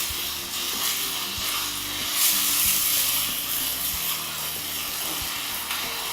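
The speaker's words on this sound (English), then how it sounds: "we're doing it as a seasoning within a saute. So we can combine this thoroughly." A seasoning sautéed and stirred in a hot skillet gives a loud, steady sizzle and hiss throughout, close up, with faint stirring movement and no voices.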